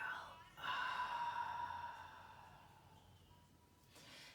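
A deep breath in and out during a gentle yoga class, heard as a soft, close, airy breath that swells and slowly fades, with a faint voice at the edges.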